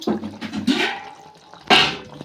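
A little water poured into a chicken curry with drumsticks and raw mango comes in three short, close splashy pours, each a brief gush with quiet gaps between.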